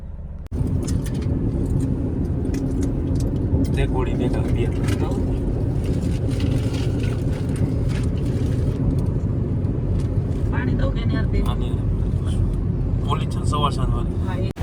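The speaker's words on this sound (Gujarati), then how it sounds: "ગાઈસ ફાઇનલી ગાડી ચાલુ કરી દીધી." A car running and driving, with a continuous loud low engine and road rumble throughout while a person talks over it.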